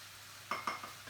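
Cinnamon, smoked paprika and chili flakes hit a hot pan with two sharp sizzling bursts, followed by softer stirring scrapes, close and fairly quiet.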